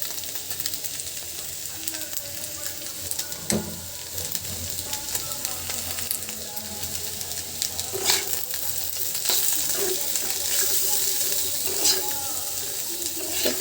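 Onions going into a pan for Bengali potato fish bhorta give a steady, fairly close sizzle, with a few sharp stirring clicks and scrapes rising through the hiss.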